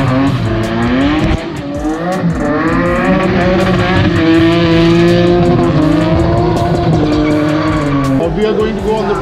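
Drift cars on a cold, damp, rain-wet track at the Nurburgring Drift Cup struggle for grip, engines revving loudly and tires squealing continuously up close, with voices audible beneath the roar.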